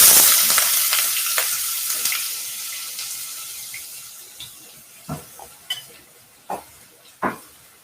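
Chopped onion hitting hot oil with tempered mustard seeds, giving a steady sizzle with scattered sharp crackles and pops toward the end, close and fairly loud.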